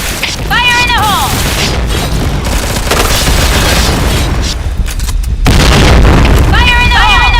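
Loud, sustained booming blasts from a grenade going off in a shooter video game, dense and continuous across the clip, with voice calls layered on top and a brief drop before the noise returns.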